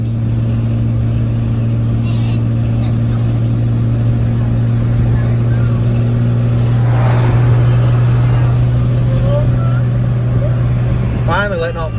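A diesel truck with a common-rail swap and a failed turbo runs at full throttle, a loud droning engine holding steady with a slight rise in pitch, while someone talks over it.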